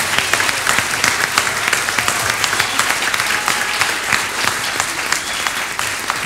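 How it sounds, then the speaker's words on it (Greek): A crowd at a concert in a Greek Orthodox church applauds warmly for a priest. The dense, steady clapping is loud and close and lasts several seconds without a break. "Ένα χειροκρότημα"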